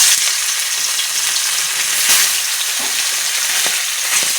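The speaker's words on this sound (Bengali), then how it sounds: "এভাবে সব মাছগুলো এখন ভাজা করে নেব" Pieces of bhola fish fry in hot oil with a bright, hissing sizzle and scattered pops and crackles, steady and close throughout, with no voices.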